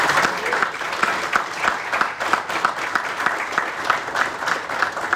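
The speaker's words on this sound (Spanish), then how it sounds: "Yo creo que eso merece un aplauso." A crowd claps steadily in sustained applause, dense and continuous throughout, with no voices standing out.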